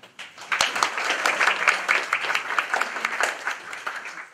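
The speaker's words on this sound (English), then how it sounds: "You deserve a round of applause for that." An audience at a live event breaks into a round of applause on cue, a dense, steady wash of many hands clapping that starts sharply after a brief pause and holds loud throughout.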